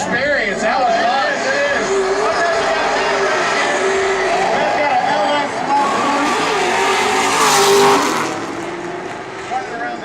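Drift car skidding sideways, engine revving in wavering pitch over a long tire squeal that peaks near the end, loud and close, with an announcer talking over it.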